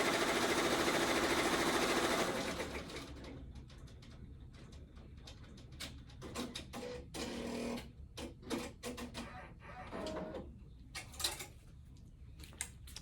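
Embroidery machine stitching an applique tack-down run on a fabric patch, starting with a steady loud mechanical whir for about two seconds, then trailing off into quieter, irregular clicks and short stitching bursts.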